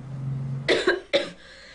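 Two sharp, close coughs in quick succession after a brief low murmur, then quiet.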